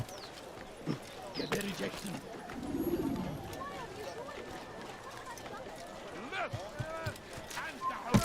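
Hooves of horses clatter in a quick galloping rhythm in Assassin's Creed, moderately close and soft, with voices speaking over them and birds cooing nearby.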